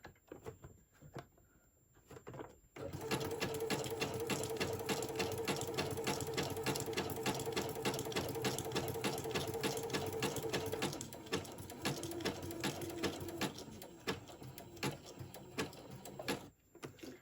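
A sewing machine stitches across the bottom of paper pages for an 8x8 mini album, running in a fast, steady rhythmic whir for about ten seconds, easing briefly, then continuing with a shorter run before stopping, close and alone.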